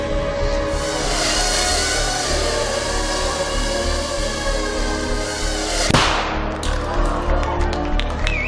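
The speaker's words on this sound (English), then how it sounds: "That little bang is enough to penetrate the skull and destroy the contents." A small charge of 3 grams of shaped explosive goes off with one sharp, loud crack that rings out and decays, following a steady droning hum.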